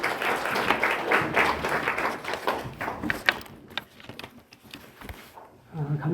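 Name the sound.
applause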